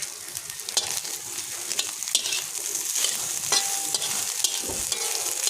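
An egg dish fries in a pan while a utensil stirs it, giving a steady close sizzle broken by scraping strokes and soft taps throughout.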